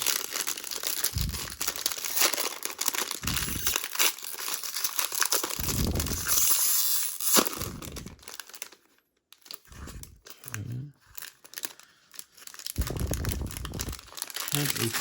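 2021 Triple Threads trading card packs ripped open by hand, with repeated close bursts of crinkling foil and tearing wrapper, broken by brief pauses and a short stretch of near-silence.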